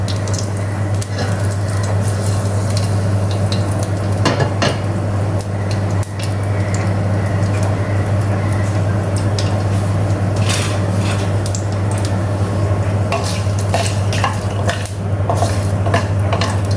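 Dried spices sizzling in a hot pan for an Indian tomato soup, a continuous loud fry under a low steady hum, broken by clinks and scrapes of a utensil stirring against the pan.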